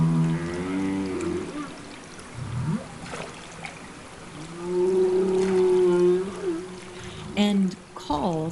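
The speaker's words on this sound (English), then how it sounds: "the most interesting of all the sounds that humpback whales make, which are the calls or non-song calls" Humpback whale social calls: drawn-out tonal moans and rising whoops with a brief grunting sweep, several distinct calls spread over several seconds, loud and clear against a hissy underwater background.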